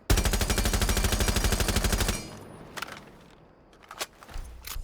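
Rapid automatic gunfire from a flash-hider-equipped weapon in Rainbow Six Siege, a loud, fast, evenly spaced burst lasting about two seconds, followed by scattered footsteps and faint impacts.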